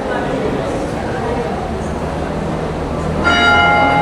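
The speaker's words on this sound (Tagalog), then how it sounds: "Bakit may bell ng alas 8?" A church bell rings for the eight o'clock Angelus, its tone emerging near the end beneath a priest's loud, continuous talk and room noise.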